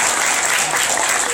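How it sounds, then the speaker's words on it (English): Convention audience applauding in a dense, steady wash of clapping that fills the whole moment at close range without letting up. "all of us need to give you guys a big round of applause"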